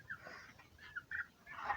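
Local chickens at a poultry farm clucking in a few short, faint bursts nearby, with quiet gaps between calls.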